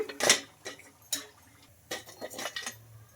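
Fried snacks being set onto a plate during snack cooking: a few sharp clinks and scrapes of utensil on dish in separate bursts, close and fairly quiet.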